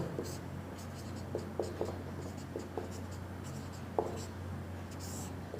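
Numbers written by hand on a classroom board for a sixth-grade maths lesson: faint scratchy strokes and taps in short irregular groups, set against a steady low background hum. No clear speech.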